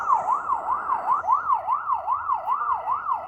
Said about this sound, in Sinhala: මේකේ ඇම්බියුලන්ස් දාන්න පුළුවන්